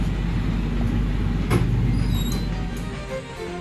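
A Rajdhani Express passenger train runs at speed with a loud, steady rumble of wheels on rails, a brief sharp screech partway through and high squeals toward the end, with no voices.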